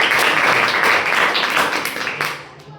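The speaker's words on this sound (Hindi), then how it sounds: "ताली बजाओ इस बच्चे को।" Children in a classroom clap together for a classmate, a dense burst of applause that holds steady for a couple of seconds before tapering off, with a voice faintly underneath.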